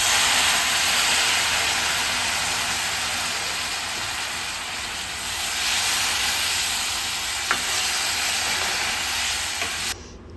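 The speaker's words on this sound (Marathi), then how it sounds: "आता या स्टेजला आपण यामध्ये गुळाचं पाणी घालायचं आहे" Jaggery water poured into ghee-roasted semolina for sheera, a loud steady sizzle and hiss of steam that eases slightly midway and swells again before stopping abruptly near the end, no talking.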